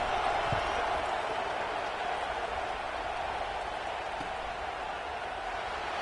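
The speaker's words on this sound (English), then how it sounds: "this crowd is buzzing after that last score" A football stadium crowd keeps up a steady, distant buzz of murmur and cheering at a PSU vs Washington game, a continuous wash of noise with no clear break.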